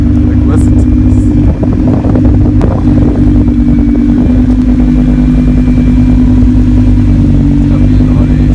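A loud Audi R8 engine drones steadily with a strong low hum and rumble, buffeted by wind, while people talk over it at a car meet.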